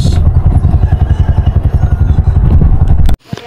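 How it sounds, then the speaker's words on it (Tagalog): A Bajaj RE engine idles with a quick, even pulsing throb and some mechanical clatter, loud and near, then stops abruptly near the end. "ito yung makina ng Bajaj RE"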